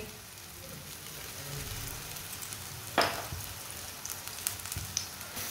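Radish paratha fries in oil on a pan with a steady, soft sizzle that stays fairly faint, broken by a sharp crackle partway through and a few small pops later.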